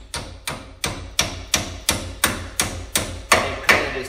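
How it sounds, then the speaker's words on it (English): Hammer tapping a bolt through the upper ball joint of a 2002-2005 Ford Explorer, nine sharp metallic strikes in a steady rhythm, close and loud, no talk. "And kind of just tap through to the other side."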